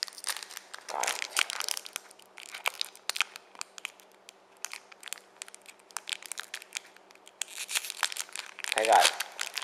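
Crinkly tearing of a Pokémon card booster pack wrapper from a HeartGold/SoulSilver tin, ripped open in repeated short rips and crumples close by, with people talking over it.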